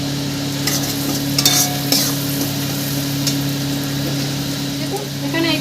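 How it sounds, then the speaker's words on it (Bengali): Chickpeas fry lightly in oil in a pan with a continuous close sizzle, scattered stirring clinks and scrapes, and a steady background hum. "তেলের উপর ছোলাটা একটু ভেজে নেবো হালকা করে।"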